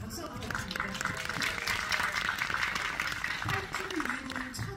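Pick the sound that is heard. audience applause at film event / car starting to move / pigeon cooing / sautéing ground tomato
audience applause at film event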